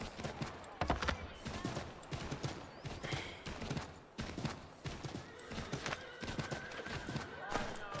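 Hooves clatter in a steady galloping rhythm while a horse whinnies, amid busy game sound effects and occasional sharp bangs, in Assassin's Creed III.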